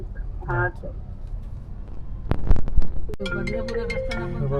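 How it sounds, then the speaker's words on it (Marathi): A phone ringtone starts partway through, a bright repeating electronic melody playing steadily close by after some rustling and a brief voice. "परत आता आरतीचा फोन आलाय"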